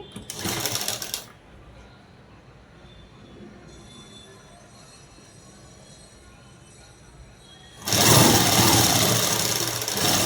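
Sewing machine running a straight seam on a night dress, loud, steady bursts of whirring at the start and again near the end, with a quieter stretch between.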